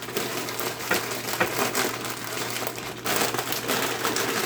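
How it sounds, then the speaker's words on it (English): Hot Cheetos are crushed and smashed down for a fried chicken sandwich coating, giving a steady, close crinkling and crunching that continues without pause and without any talk. "what I'm doing is smashing up my Cheetos"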